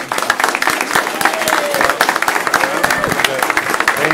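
Applause breaks out at a county commissioners court session to honour a retiring administrator. Many hands clap in a dense, steady patter that fills the room, with voices faintly audible under it.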